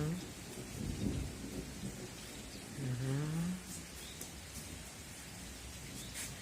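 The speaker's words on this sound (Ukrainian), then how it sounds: "Чуєте, як гримить?" Thunder rumbles low and steady beneath a wash of summer rain falling on a garden outdoors, with a faint passing tone partway through; no one talks.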